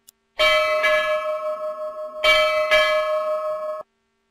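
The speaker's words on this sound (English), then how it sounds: "And a bell." Two pairs of loud metallic ship's bell strikes ring out, each ding followed by a long, shimmering resonant tail.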